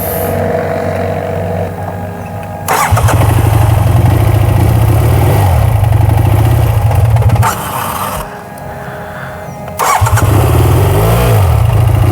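A motorcycle engine that keeps stalling cranks and catches, then idles loudly up close, cuts out briefly and is started again with a rough, throbbing rumble.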